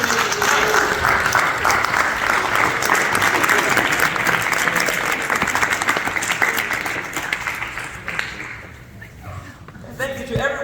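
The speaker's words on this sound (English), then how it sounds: "Can we all rise and give a round of applause to the dinner committee tonight?" Loud, sustained applause from a dinner audience rising for the committee, steady for several seconds before fading out, with voices emerging near the end.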